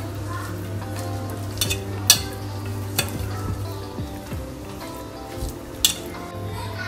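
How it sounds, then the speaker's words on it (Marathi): Wheat flour being stirred into a clam masala curry in a pan, with a steady low sizzle, a scraping spoon and a few sharp clinks against the metal, close by. "आपलं गव्हाचं पीठ घालायचं आहे. एकदम मिक्स करून घेऊया आपण."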